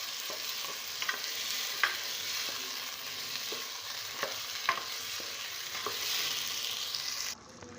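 Minced meat fries with ginger-garlic paste in a pan, producing a steady close sizzle broken by regular scraping and clinking as a spoon stirs it, with no voices.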